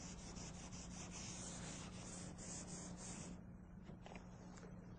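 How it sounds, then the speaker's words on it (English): Steady, close rubbing of sandpaper over glazing and spot putty on a surface. The scratchy sound is continuous and quiet, easing slightly near the end, with no voices. "We'll be sanding off what we don't need here, and the only glazing and spot putty will be left is what we need to fill the imperfections."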